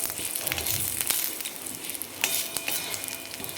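Grated coconut roasts in oil in a pan, giving a steady close sizzle and crackle with occasional stirring scrapes and no voices.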